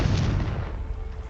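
A Bombarda blasting spell explodes in Hogwarts Legacy, a heavy booming blast with a rumbling low-end tail that fades over a second, loud and alone.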